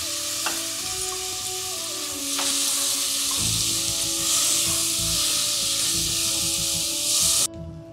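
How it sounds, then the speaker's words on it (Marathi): Onion and tomato frying with curry leaves in a pan for a Goan-style pomfret curry, a steady close sizzle with scraping stirs throughout, cutting off abruptly near the end. "कांदा, टोमॅटो, कढीपत्त्याची फोडणी देऊन झाले."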